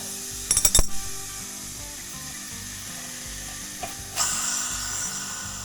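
A wrench loosens the regulator fitting on an air compressor, with a quick cluster of sharp metallic clicks and ratchet-like taps early on, a lone tap later, then a faint hiss amid quiet workshop background.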